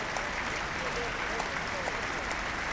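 Spectators at Lord's during a 1981 England v Australia Test match applaud after a catch, a steady distant wash of clapping without talk.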